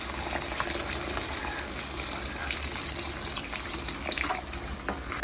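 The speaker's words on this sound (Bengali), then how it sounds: "এখন দিয়ে দিব পরিমাণ মতো পানি।" Water streams steadily into a cooking pot of well-fried spice paste for a Bengali katla fish kalia curry, a continuous close splashing pour with no talk.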